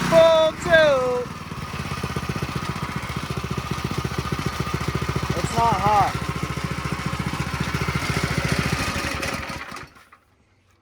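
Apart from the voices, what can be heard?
Predator 212 small gas engine running at full throttle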